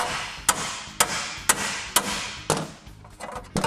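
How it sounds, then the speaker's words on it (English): A hammer strikes the top of a steel oil pan rail held against a dolly underneath, making six sharp, close metallic blows at a steady half-second rhythm. "we're going to slip a dolly underneath the rail and hit the top side of it with a hammer"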